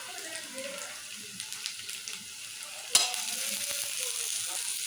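Chopped onions and green chillies deep frying in oil, a soft continuous sizzle with small crackles and one sharp clink partway through, heard close and fairly quiet.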